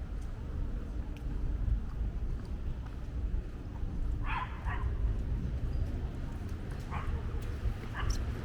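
Dogs bark in short, scattered yips on a Mexico City street, moderately distant and partly masked by steady street noise and traffic rumble.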